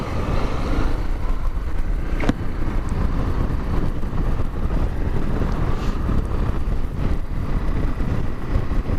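Steady wind roars and buffets across the microphone throughout on North Devon trails, cold and windy, loud and continuous with no talking.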